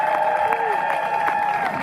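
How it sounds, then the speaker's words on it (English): A crowd at a New Jersey March for Truth rally applauds for Congressman Bill Pascrell with steady, dense clapping and scattered cheers. The applause is close and continuous, and a voice carries over it. "Let's give a round of applause to Congressman Pascrell."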